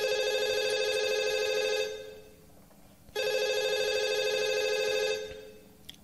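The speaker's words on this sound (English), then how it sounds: "Is that like the first phone call I've ever gotten?" A telephone rings in two long electronic bursts with a short gap between them, clear and fairly close, with no talking.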